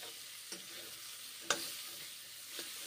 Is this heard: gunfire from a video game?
no